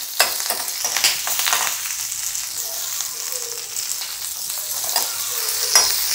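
Slit green chilies, a small piece of ginger and garlic cloves fry in hot oil for a hotel-style white vegetable kurma, making a loud, steady sizzle near at hand with occasional taps of a stirring spoon.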